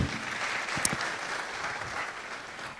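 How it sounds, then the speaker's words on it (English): Audience applause for graduates at a cybersecurity graduation ceremony, a steady broadband wash of many hands clapping at moderate distance, holding evenly for about three seconds with one sharper clap standing out. "Let's clap for them."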